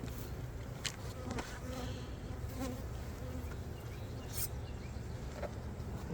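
Honey bees buzz in and around an opened hive box with a modest number of bees inside, a steady faint hum with a few louder passes of single bees close by.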